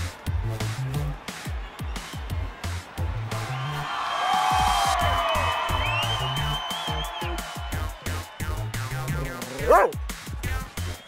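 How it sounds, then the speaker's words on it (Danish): A dog gives a few short yips and whimpering whines over steady rhythmic music, with a longer whine partway through and a sharp cry near the end, fairly close. "er du en sød hund?"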